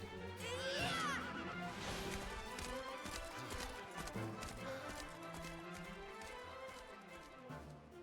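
Horse hooves clip-clop rhythmically in the video game Dragon Quest XI amid a busy mix, with a brief high neigh-like cry early on, fairly close under swelling background sound.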